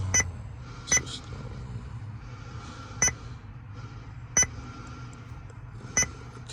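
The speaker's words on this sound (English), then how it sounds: "Let me turn this annoying beep off." A sharp electronic warning beep from a car radio repeats at irregular intervals, five short chirps over a low steady hum inside a 2009-2012 Nissan Frontier.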